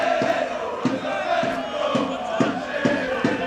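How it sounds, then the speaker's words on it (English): A boisterous home crowd at a Cardiff Met versus Leeds Beckett university rugby match roars steadily, a dense continuous wash of cheering and shouting with rhythmic thumps or claps recurring through it. "Madison Hunting makes no mistake in front of the boisterous Cardiff Met crowd."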